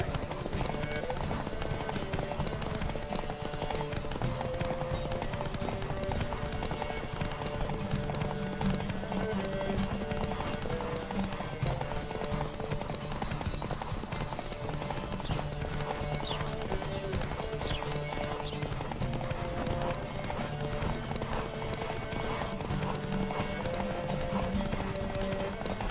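A horse gallops at full speed in a race in The Witcher 3, rapid hoofbeats drumming steadily and loud throughout, with occasional whinnies and rushing wind beneath.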